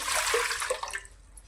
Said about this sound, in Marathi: पाणी टाकून घेते याच्यामध्ये